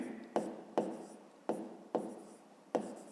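Pen strokes jotting a math answer on paper, five short scratchy bursts spaced about half a second apart, close and quiet with no talking.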